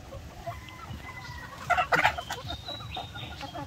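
Laying hens cluck on a farm in a few soft, scattered calls, with a brief louder flurry of clucks near the middle over a low background rumble.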